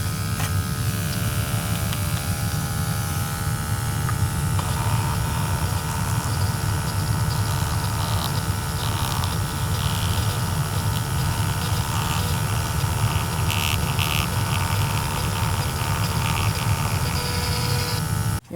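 A newly installed gas boiler runs steadily during a combustion test, a continuous close hum and whir with no break and no voices.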